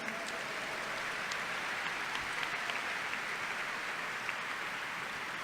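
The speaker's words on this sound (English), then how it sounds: "I want everybody to give them a round of applause." A congregation at a Yom Kippur Kol Nidre service gives a sustained round of applause, a steady, fairly faint wash of clapping with no talk over it.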